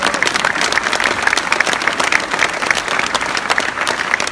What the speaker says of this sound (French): Vous m'applaudissez